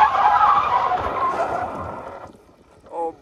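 A Mahindra XUV500 skids while drifting, a loud sustained tyre screech heard from a distance that fades after about two seconds, followed by a brief faint squeal.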